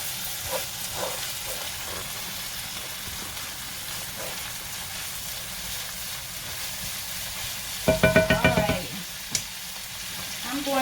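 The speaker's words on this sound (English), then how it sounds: "Saute those up. My onions are good and translucent." Onions sautéing in a pan for shrimp and crab étouffée give a steady soft sizzle, broken near the end by a short burst of louder stirring and clattering against the pan.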